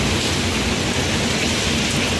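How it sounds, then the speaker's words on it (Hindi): Heavy rain pours down outdoors in a dense, steady roar that stays loud and unbroken throughout, with no voices over it. "ये बारिश हो रही है ना, ये रुकने का नाम नहीं ले रही है"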